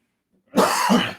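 A single harsh cough bursts out close by after a moment of silence, then trails off.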